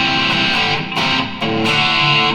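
An electric guitar plays sustained chords with distortion set around 4 or 5, giving a moderately distorted, gritty tone, loud and continuous with brief dips between strums.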